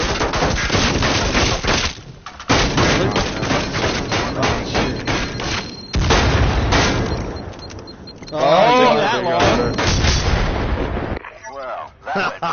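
Game combat in Firewall Zero Hour on a Greenland map: dense, loud bursts of gunfire and booming grenade blasts come in rapid clusters with short gaps, and players talk over the fighting.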